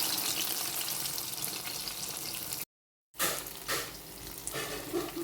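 Banana fritters, ethakka appam, fry in a pan with a steady, close sizzle. It breaks for a moment of silence, then comes back with a few louder crackling bursts.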